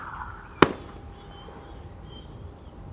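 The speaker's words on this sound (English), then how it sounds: "Bird Control is setting off fireworks to celebrate the beginning of a new year" A single sharp firework bang set off by airport bird control at Schiphol's Polderbaan runway, one loud report with a brief echo fading into steady low outdoor background noise.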